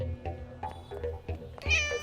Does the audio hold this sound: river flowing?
no